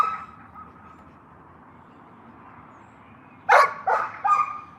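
A dog barks three times in quick succession near the end, close and sharp, after a stretch of quiet outdoor background noise during a walk.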